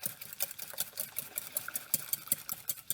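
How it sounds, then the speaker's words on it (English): Quiche filling of eggs with cheese and mustard being whisked in a bowl for a cheese and onion quiche, giving a steady run of quick, close clicking strokes with no talking. "As we whisk that up"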